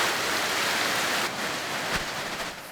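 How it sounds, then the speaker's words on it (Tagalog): Heavy rain pours down in a dense, steady hiss, close and loud, with no voices. "bumuhos ang malakas na ulan."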